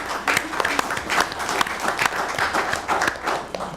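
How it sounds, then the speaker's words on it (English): Hand clapping from a tribal council meeting crowd welcoming newly enrolled members, brisk and uneven with distinct individual claps, fairly close and loud, with some murmured voices underneath. "Everybody join with me with a hand clap to these new members"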